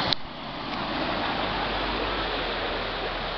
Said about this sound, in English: Water's coming right down.